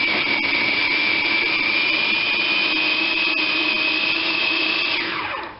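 A blender whirs loudly and steadily for several seconds, blending pesto ingredients with garlic, salt and pepper before winding down to a stop at the end; no one speaks.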